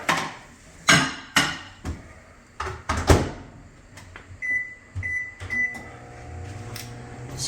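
A microwave oven heating challah French toast with vanilla ice cream: a series of sharp clunks and knocks from door and dishes, then a steady hum with short beeps near the end.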